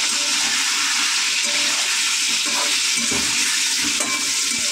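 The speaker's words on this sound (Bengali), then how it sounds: "তো আলুগুলো সুন্দর করে ভেজে দেবো।" Potatoes frying in a pan, cooked as part of a Sunday mutton dish, give a steady loud sizzle that runs the whole time, with soft stirring scrapes now and then and no voices.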